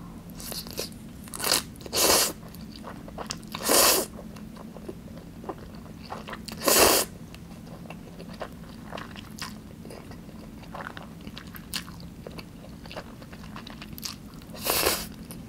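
Close, quiet eating sounds of Chapagetti black bean noodles with altari radish kimchi: sharp loud crunches spaced every few seconds over soft chewing and slurping, with a faint steady hum underneath.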